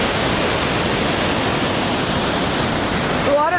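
High water of the Kettle Valley River rushing past, a loud, steady broadband roar held throughout, with a voice briefly starting to speak over it at the very end.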